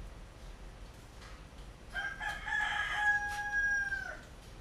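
A rooster crows with a long drawn-out cock-a-doodle-doo behind a home cooking session, the call rising at mid-distance over a low steady background hum while chickens cluck faintly nearby.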